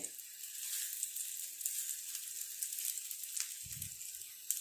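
Tikka pieces frying on a gas stove turned up to full flame give a steady, close sizzle throughout, with a brief low thump of handling near the end.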